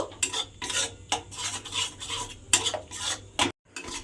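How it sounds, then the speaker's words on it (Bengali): Spice masala with chili powder being stir-fried in a pan with no oil, heard as repeated rhythmic scraping and clinking of a spatula against the pan, close and fairly loud, with a faint sizzle underneath. "এবারে মশলাটা আমি একটু কষিয়ে নেব"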